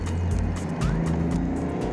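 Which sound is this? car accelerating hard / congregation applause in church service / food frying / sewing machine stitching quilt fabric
car accelerating hard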